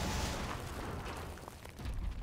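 A hand grenade blast in Wolfenstein: The New Order, heard as a loud, sustained rumbling boom that fills the whole stretch with dense low-end roar and no voices.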